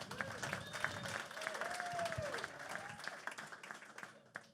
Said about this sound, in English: That was a beautiful round of applause